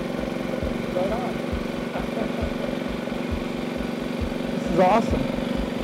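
A 2018 Yamaha WR250F dirt bike idles close by with a pulsing engine note, then gives a quick rev blip near the end, while people talk over it.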